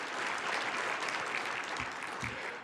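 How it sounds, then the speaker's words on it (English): Applause from a crowd at an annual legislative breakfast fills the room, an even, fairly soft patter of many hands with a couple of low thumps near the end. "Please give them a round of applause"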